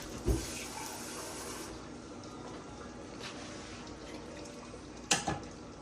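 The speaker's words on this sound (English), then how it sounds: "Add a little bit of water." Water poured into a pot of bluefish chowder that already holds canned cream of chicken soup, giving a soft, steady pouring wash with a sharp clunk at the start and another near the end, all fairly quiet.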